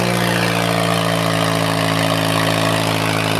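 An ACE 450 tractor engine runs loud and close at a steady idle, a constant droning hum with strong harmonic tones that holds unchanged and has no voices over it.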